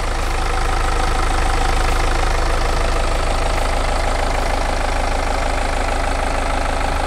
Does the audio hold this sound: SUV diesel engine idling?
yes